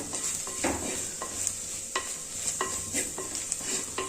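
Spice powders roast in coconut oil in a pan for a crab curry, stirred with repeated scraping strokes over a soft continuous sizzle, close and alone.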